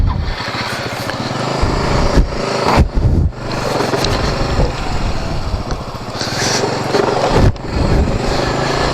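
Twenty-year-old Suzuki Burgman 250 scooter being ridden, its engine droning steadily and loudly throughout with rising and falling tone and wind rush, a few brief dips between.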